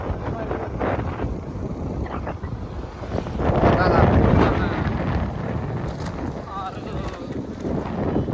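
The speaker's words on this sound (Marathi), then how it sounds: "झपझुप झपझुप झपझुप कसं वाटतं ते वारं हो." Wind gusts across an open riverside, a broad continuous rushing roar that swells louder in the middle, with people talking over it.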